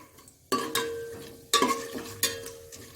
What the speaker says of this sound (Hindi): इसको थोड़ा सा घी में भुनेंगे इसको